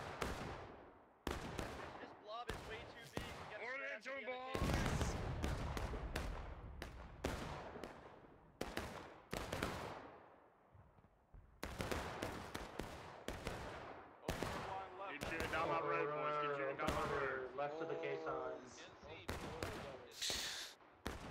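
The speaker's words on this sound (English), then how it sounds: "Man, good barrage there from the Union Artie." Union artillery barrage in the Civil War game War of Rights on the Hagerstown map, with many irregular booms and cracks of varying loudness scattered throughout, some near and some distant, while someone talks between and over them.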